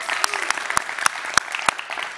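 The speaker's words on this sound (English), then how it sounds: "Can we have another massive round of applause for the speakers?" Audience applause at a TEDx climate conference at Wageningen University: sharp, evenly spaced claps ring out close over a softer bed of clapping from the crowd, with no talking.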